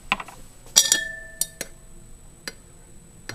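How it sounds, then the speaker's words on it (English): A glass container holding cobalt catalyst, potassium sodium tartrate and hydrogen peroxide solution is stirred, producing scattered bright clinks and taps of a stirrer against glass, a few sharp ringing hits spaced irregularly, quiet between. "Give it a stir."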